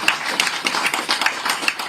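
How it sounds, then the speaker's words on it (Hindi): A crowd bursts into loud, dense applause at a Kargil Vijay Diwas silver jubilee ceremony in Bhopal, the overlapping claps rattling on steadily without a break. "केवल जोरदार ताली बजाओ"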